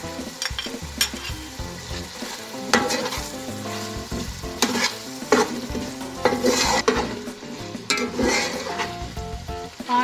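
Spicy masala with potatoes, green chilies and pickle sizzles and fries in a pot while a spoon stirs and scrapes it, with clinks of metal against the pot, close and continuous.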